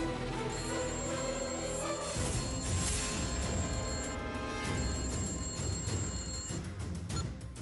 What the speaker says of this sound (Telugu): రఘురామ్, ఒకసారి ఫోన్ చేయి.